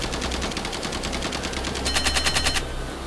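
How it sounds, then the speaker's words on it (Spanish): Rapid repeated laser-ray blasts fire in a War of the Worlds video game, a steady pulsing burst of shots that grows louder and denser toward the end before cutting off. "Es un rayo láser"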